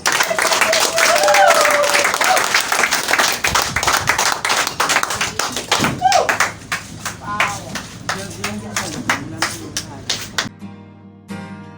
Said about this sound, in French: Applaudissez à Dieu.